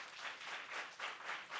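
Audience applause at a live ghazal singing event, a steady wash of many hands clapping with gentle swells and no voices.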